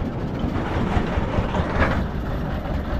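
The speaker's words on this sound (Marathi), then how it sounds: "टॉय ट्रेन आल्या." A toy train pulls in on the short line at Elephanta Caves, a steady low rumble with rhythmic clickety-clack of wheels on rails, close and continuous, with no voices over it.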